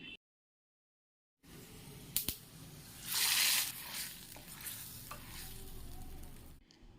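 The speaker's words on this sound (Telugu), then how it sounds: "తర్వాత దీనికి పోపు వేసుకోవడమే" Tempering spices sizzling in hot oil for a fenugreek leaf dal, starting after a silent gap with clicks, then a loud hissing burst that settles into a steady crackling fry.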